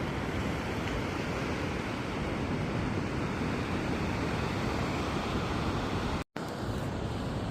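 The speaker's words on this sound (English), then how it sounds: "You can't beat the sound of the ocean in the morning." Ocean surf washes steadily onto a beach on a morning walk between campsites, a continuous broadband roar with no pauses, close and fairly even, with one brief dropout near the end.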